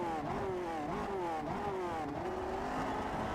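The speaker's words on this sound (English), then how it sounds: "You can hear the engines begin to harmonize." Several vintage Grand Prix race car engines in the iRacing game Grand Prix Legends at Brands Hatch rev and shift, their whining tones overlapping and rising and falling together, loud and continuous.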